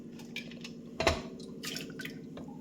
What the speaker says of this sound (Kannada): ಬೇಳೆ ಹಾಕಬೇಕು ಫ್ರೆಂಡ್ಸ್.